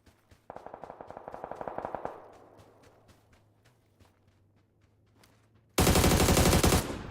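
Rapid bursts of automatic gunfire from a PUBG console match: a sustained volley of evenly spaced shots, a quieter stretch of scattered single shots, then a loud, dense closing burst.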